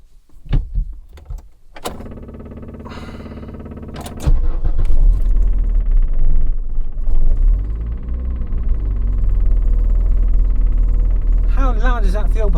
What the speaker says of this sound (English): the fuel pump is making a lot of noise